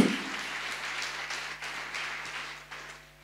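A church congregation claps and cheers in praise at a French-language prayer service, a steady broadband wash of applause that holds evenly, then thins toward the end, with no clear voice on top.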